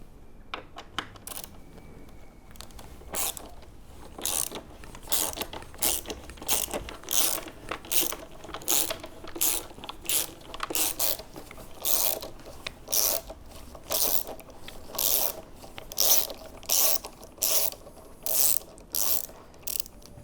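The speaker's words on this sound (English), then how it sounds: "You'll use a Torx T40 wrench to remove these." A Torx T40 ratchet wrench loosens bolts on a BMW F850GS motorcycle, with rapid clicking ratchet bursts repeating in a steady rhythm, close and clear with no talk.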